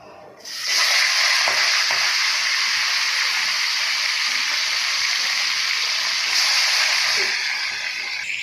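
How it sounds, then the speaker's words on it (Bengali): Fish heads dropped into hot oil set off a sudden loud, hissing sizzle that holds strong and steady for several seconds before easing slightly at the end. "এখানে এই যে তেল বসিয়ে দিয়েছি, তেল গরম হয়ে গেছে বন্ধুরা। এবার মাথাগুলো দিয়ে দেবো।"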